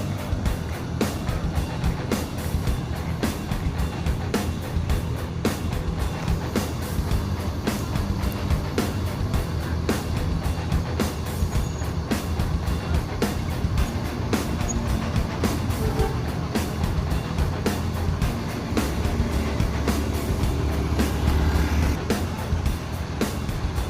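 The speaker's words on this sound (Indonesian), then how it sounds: "Ini bus ANS AC Milan, bus yang kedua keluar dari Terminal Balai Solo setelah melakukan penerasitan penumpang." An ANS AC Milan bus driving out of Terminal Balai Solo, a steady low engine drone with road rumble that holds close for the whole stretch.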